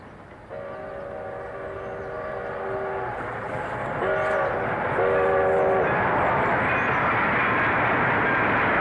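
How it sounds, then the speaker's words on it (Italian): A train passes with its whistle sounding in long steady blasts, a first extended blast followed by two shorter ones, over a rising rumble that swells and stays loud toward the end. "Il treno per Detroit."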